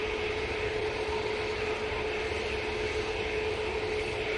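An airliner taking off from Manchester Airport, a constant dense jet roar with a fixed tonal whine, steady and moderately distant throughout.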